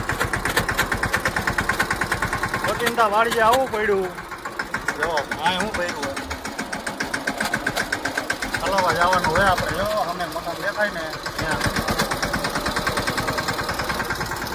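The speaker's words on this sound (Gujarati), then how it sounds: "વાડીએ ટ્રેક્ટર લઈને જાય." Voices talk over a tractor engine on a farm trip, its steady low thudding rhythm running beneath the speech for the whole stretch.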